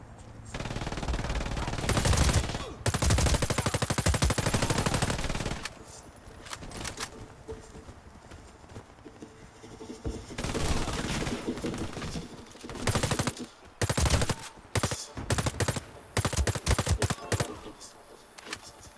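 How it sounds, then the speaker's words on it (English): Automatic gunfire in the shooter game Warface, long rapid bursts and shorter staccato volleys stuttering over about nineteen seconds, loud and close. "Goddamn gun is jumping all over the fucking place."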